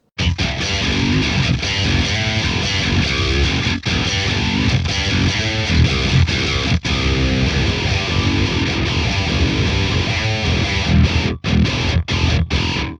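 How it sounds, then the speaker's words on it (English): An electric guitar plays a thick, fuzzy riff through a Fractal AX8 model of a decades-old distortion pedal into a clean tube amp model. It is loud and sustained throughout, with a few choppy stops near the end. "a model of a decades-old distortion pedal going through a super transparent, clean tube amp"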